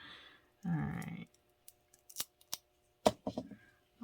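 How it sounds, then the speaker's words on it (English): Scissors trim the edge of a wax seal with a few close, quiet crisp snips and small clicks, spaced irregularly, with a brief rustle near the start. "So you can take some scissors and just do a bit of a trim up there."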